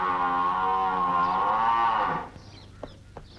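A buffalo gives one long, loud, droning low that lasts about two seconds and then breaks off, leaving quiet background with a couple of faint clicks.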